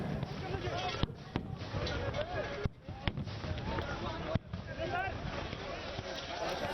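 Tear gas shells are fired at protesting farmers at a tense border crossing: several sharp pops and bangs ring out at irregular intervals over crowd noise and shouting voices.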